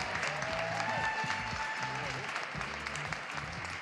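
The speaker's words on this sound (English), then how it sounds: "Let's give them a big round of applause." Crowd applause at a St. Louis Cardinals Winter Warm Up event, a dense, steady clapping from a large audience that fills the room, with talk faintly underneath.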